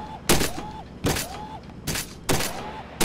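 Four loud, sharp gunshots ring out at an even pace in the VR shooting game Gun Club VR, each one a close crack with a quick tail, and brief electronic game chirps sound between them.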